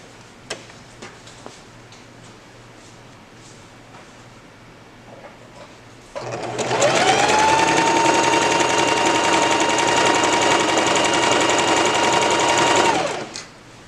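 Sewing machine stitching fabric for a headband: a few faint ticks and clicks, then a loud, steady mechanical whir that runs about seven seconds before stopping abruptly.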